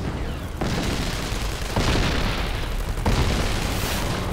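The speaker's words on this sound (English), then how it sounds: "NVA machine guns and mortars begin firing into the base" Mortar and artillery explosions from NVA guns hitting a base perimeter in wartime combat, a continuous heavy roar of blasts with three sharp surges of louder booms, dense and close with no gaps between impacts.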